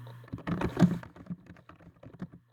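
Typing on a computer keyboard, close up: a quick burst of crisp key clicks followed by scattered, lighter taps, with no talking.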